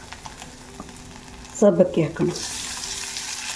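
Sago pearls and small potato pieces go into a hot oil tempering in a thick-bottomed pan, sparking a sudden loud sizzle that settles into a steady fry, with a brief spoken phrase just before.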